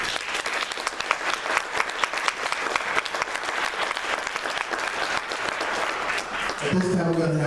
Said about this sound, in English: I'd like you to give a round of applause for these young people